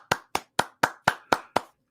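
Seven crisp, evenly spaced hand claps play from a soundboard applause effect, close, dry and isolated with silence between each strike and after the last.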